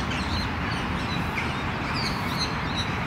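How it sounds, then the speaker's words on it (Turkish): Parrots calling as they pass overhead outdoors, with a few distant squawks rising over a steady broadband wash of background noise and no talk. "şu başımızdan geçiyor, çık diyenler de papağanlar"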